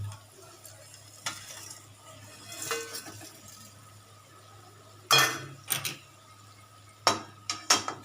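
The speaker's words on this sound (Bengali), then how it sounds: "এটা আমি ভাজাতেই দিয়ে দেবো একসাথে নাড়তে নাড়তে সাঁতলাতে সাঁতলাতে" Maggi masala noodles being stir-fried in a pan: a soft low sizzle underneath scattered metallic scrapes and clanks of a spoon against the pan, with a few sharp knocks clustered near the end.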